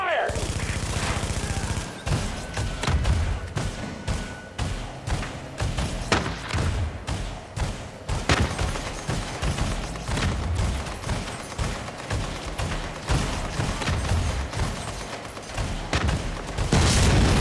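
Heavy gunfire in The Division during a fight against an armored APC, dense overlapping automatic bursts with booms and thuds, loud and continuous, with shouted voices mixed in.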